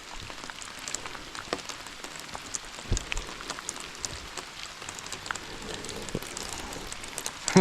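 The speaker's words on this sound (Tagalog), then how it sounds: "Ulan." Rain falls outdoors with scattered close drops tapping on surfaces over a soft continuous patter, fairly quiet and irregular, with no one speaking.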